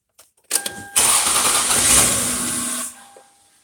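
A 1998 Lexus ES 300 engine cranks briefly with a few quick turns, then catches and roars up loudly with a hissing rush from the missing air intake, before settling to a softer idle.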